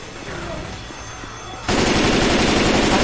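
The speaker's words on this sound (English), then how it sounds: "Can you stop shooting me?" Left 4 Dead 2 gunfire starts suddenly after a quieter stretch, turning into a dense rapid burst of automatic shots that keeps going loud to the end.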